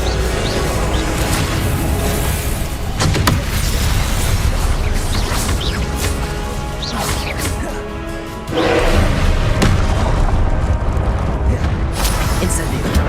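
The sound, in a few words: spell blasts in the video game Hogwarts Legacy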